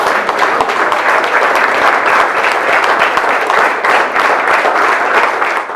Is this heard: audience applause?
yes